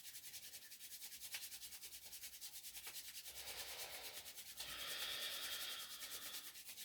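Two palms rub briskly together to build friction and heat, a soft rhythmic swishing close to the microphone that grows louder and faster, with no talk.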